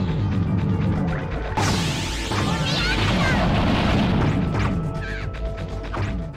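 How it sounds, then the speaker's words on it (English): Explosions and crashing blasts in the video game .hack//Quarantine, a loud sustained barrage of booms and smashing debris lasting several seconds over game music and effects. "You're also going to die from all the explosions."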